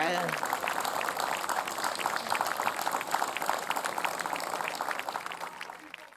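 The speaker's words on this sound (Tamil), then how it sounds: "கைத்தட்டல் கொடுங்க" A studio audience on the Jaya TV children's fun show Vaalu Pasaga breaks into sustained clapping after a child's song, a dense even patter that holds steady, then fades away near the end.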